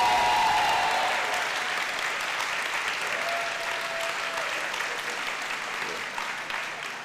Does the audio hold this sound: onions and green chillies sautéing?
no